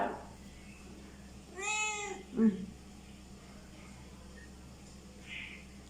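A single drawn-out cat meow sounds in a quiet room, followed by a brief soft noise and faint background hum.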